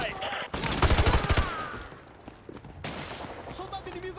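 Video game gunfire in Call of Duty Modern Warfare 2, machine guns firing from elevated positions: a dense burst of rapid shots up front, then scattered distant pops and battlefield noise.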